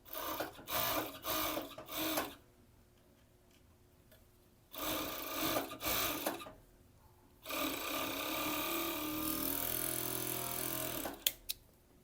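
Sewing machine stitching elastic onto the leg openings of a bikini bottom. Quiet bursts of rapid mechanical chatter stop and start, then a longer steady run with faint handling noises in between.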